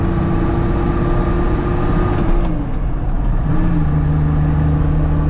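Mercedes G Wagon diesel off-roader heard from inside while driving, a steady loud engine drone with a slight dip and shift in pitch midway as the gear changes, no talking.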